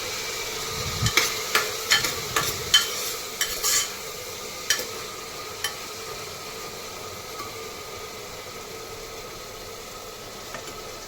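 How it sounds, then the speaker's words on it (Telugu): Onions, green chillies and curry leaves fry in hot oil for a country chicken curry, a steady sizzle with a run of sharp stirring scrapes and knocks early on that thin out, no voices. "ఇందులో ఉల్లిపాయలు అండ్ దెన్ మిర్చి, కరివేపాకు వేసి బాగా ఫ్రై చేయాలి"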